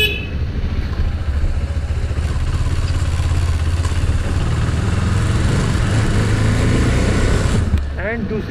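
A KTM 390 Adventure single-cylinder motorcycle is ridden in first or second gear, its engine throbbing loudly and close, with rough, rapid pulsing and wind noise throughout and a rider talking over it.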